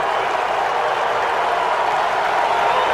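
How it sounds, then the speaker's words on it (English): A baseball stadium crowd jeers umpire Larry Vanover after a manager's ejection, a loud, continuous wash of booing and crowd noise with no break. "Crowd getting on Vanover right now"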